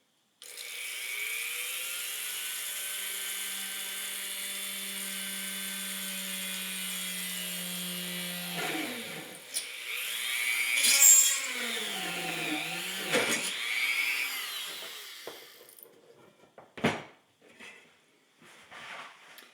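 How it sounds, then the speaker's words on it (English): An electric drill whirs steadily for several seconds, then grinds and bites into a wooden board in uneven surges before stopping, followed by a few scattered clatters. "I can drill lots of holes in that"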